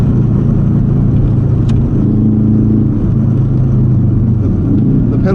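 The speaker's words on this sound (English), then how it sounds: "We're in the 1995 555 STI. Oodles of power, a magnificent soundtrack," A 1995 Subaru Impreza STI 555 engine drones loudly and steadily from inside the light car while driving, a continuous rumbling note with little change.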